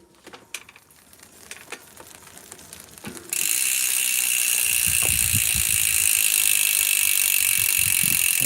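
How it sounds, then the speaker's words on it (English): Near a Magura MT5 brake on a bicycle, a few light clicks give way to a steady, loud freewheel ratchet whir from the spinning wheel, with faint rubbing from the pads against the rotor. "if I get the pedal spinning, I think it's rubbing"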